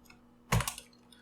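A short burst of typing on a computer keyboard, a quick cluster of a few close key presses in a quiet room, with no talking.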